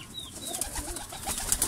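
High-flyer pigeons, including Shahjahanpuri birds, shuffle in a loft with faint coos and brief wing flutters under a dense, hissy background.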